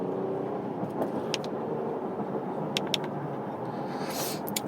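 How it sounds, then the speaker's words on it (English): An Acura MDX A-Spec SH-AWD driven moderately in sport mode gives a steady engine drone and road rumble from inside the cabin, with a few brief clicks and ticks over the hum. "that's kind of an idea of what the MDX sounds like in sport mode"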